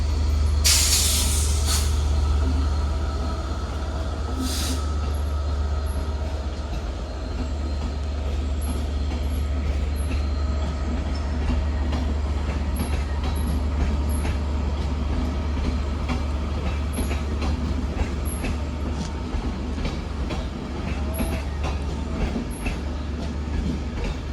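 A five-coach passenger train departs Manchester Piccadilly for Cardiff Central, with a sustained low rumble of engines and rolling wheels, a hiss of air brakes and clicks near the start, steady and close for the whole stretch, no talking.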